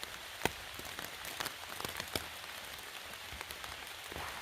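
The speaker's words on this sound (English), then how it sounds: "Just wanted you to hear the sound of the rain from inside the tent." Rain pattering on a tent from inside on the Appalachian Trail in New York, a soft continuous hiss broken by sharp, irregular drips and taps on the fabric, near and gentle.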